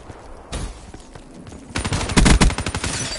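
Rapid bursts of automatic gunfire in Call of Duty Black Ops 3, starting with scattered shots and building to a loud, dense stretch of repeated firing near the end.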